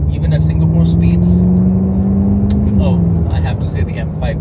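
A BMW F10 M5 V8 engine drones steadily at a sustained low pitch, loud and continuous with a slight pitch shift mid-way, heard from inside or near the car on Singapore roads.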